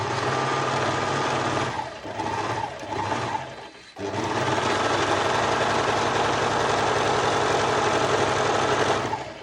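A serger with a single threaded needle, no differential feed and a small stitch length runs fabric through in a fast, dense whir. It pauses briefly midway, then carries on steadily and loud, with no talking.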